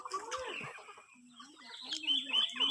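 Chickens cluck and murmur softly while eating before going up to roost, several birds making short, rising and falling calls close by at a low, quiet level.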